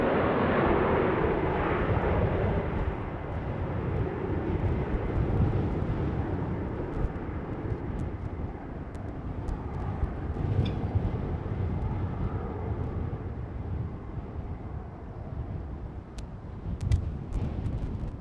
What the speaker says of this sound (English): the second Queen of the Sky of today gradually taxiing towards us